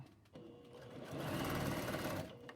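A sewing machine stitches a seam on a garment, whirring steadily up close and building slightly in speed before easing off.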